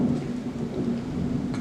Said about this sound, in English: thunder and lightning behind me